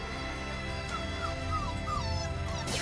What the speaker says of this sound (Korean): 하루가 멀다 하고 어미를 찾아 낑낑대며 우는 칠복이